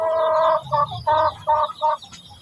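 A large hen clucks in a run of five or six short, loud bursts close by, with brief pauses between them and no talk over it.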